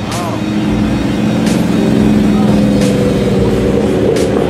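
A Mustang engine revs at an outdoor car cruise, its low rumble steady over crowd noise and nearby chatter, with a few sharp bursts cutting through.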